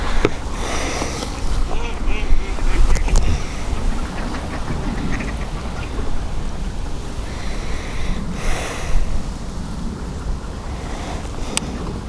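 Ducks quack on a canal at Napton, the calls scattered over steady wind and water noise, with faint voices and some microphone buffeting.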